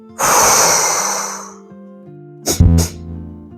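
A person demonstrates a two-step breathing exercise for panic: one long, loud breathy inhale or exhale lasting over a second, then a pause, then two short, sharp breath bursts close to the microphone.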